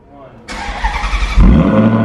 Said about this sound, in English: Let's go ahead and get a cold start.